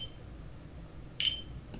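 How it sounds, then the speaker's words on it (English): A metronome gives one short, clear beep near the middle, standing out briefly over a quiet room background. "the metronome beeps and makes a sound at the exact same time"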